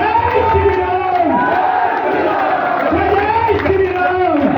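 Large rally crowd chanting Jai Shri Ram in unison, a loud, continuous mass of voices with rising and falling chant contours throughout.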